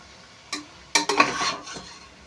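Potato fry with chili powder stirred in a pan, a few sharp spatula scrapes and clinks against the metal, loudest in a cluster midway, over a soft background sizzle.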